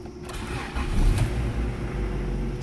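A Honda Integra GSR car engine, just fitted with an O2 sensor extender for a check engine light, turns over and settles into a steady, fairly loud idle rumble close by, with no talking.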